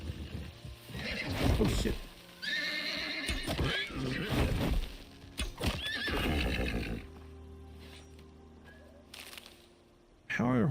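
A horse in a video game whinnies loudly several times amid clip-clopping hooves, with a person talking between the calls and a softer stretch near the end.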